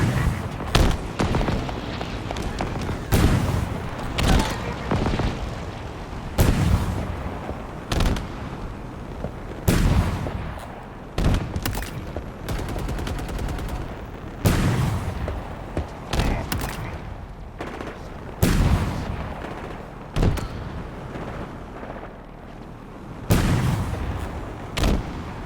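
Ongoing combat in the video game Halo Infinite, with repeated loud explosions and gunshots going off at irregular intervals over a continuous rumbling background of battle.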